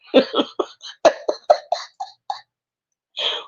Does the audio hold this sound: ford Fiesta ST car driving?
no